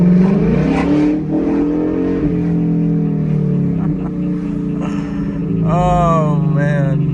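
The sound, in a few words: 2018 Ford Mustang GT revving with mufflers removed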